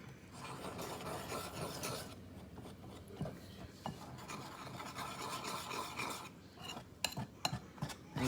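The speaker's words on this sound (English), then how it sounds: "And mix that in slowly," A whisk scrapes and stirs popover batter in a bowl, with a continuous rasping, rubbing texture and occasional light clinks against the sides, close and moderately quiet.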